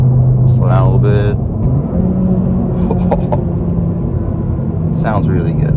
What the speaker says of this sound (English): Try another rev match downshift.